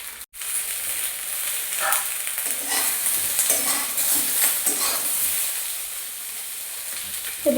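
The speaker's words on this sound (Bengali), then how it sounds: "বেগুনগুলো দিয়ে আমি একটু হালকা করে ভেজে নেব।" Eggplant pieces fry in a hot pan for shukto with an even, close sizzle, while a spatula stirs through them in scrapes and light knocks after a sharp tap at the start.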